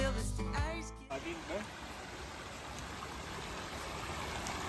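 A stream of water running downhill toward a rural German town makes a continuous rushing flow that takes over after a moment of music and voice at the start.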